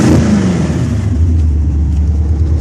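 Up close, a Monza race car revs hard: a loud engine roar dips in pitch, then settles into a deep, sustained growl with a rumbling undertone, and no voices are heard.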